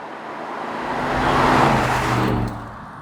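A new Aston Martin Vantage engine splutters and burbles as the car passes, swelling to a loud peak mid-way and then dropping off, with steady road noise throughout.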